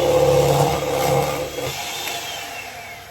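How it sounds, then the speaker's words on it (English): An electric whisk whirring steadily through Lotus Biscoff loaf batter in a home kitchen, a continuous buzzing motor that eases off partway through, with no talking. "I'm gonna whisk this"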